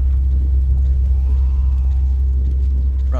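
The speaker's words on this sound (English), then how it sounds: "I feel like this is some, like, anomaly storm or some shit." A low, steady rumble of an anomaly emission storm in the game S.T.A.L.K.E.R. GAMMA, a deep droning roar that holds evenly throughout, with a faint sweeping whine above it and a brief sharp noise at the very end.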